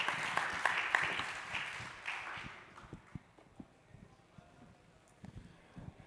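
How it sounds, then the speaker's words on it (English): A conference audience applauds a panel, and the brief clapping fades out after about two seconds, leaving scattered footsteps and shuffling in the hall. "Can we give the panel a round of applause?"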